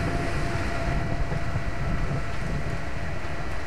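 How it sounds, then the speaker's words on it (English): A heavy cargo tram in Lost Planet 3 gives off a steady, loud low rumble and mechanical hum, with a windy wash layered over it that holds even for several seconds. "Heavy cargo tram is docked and ready."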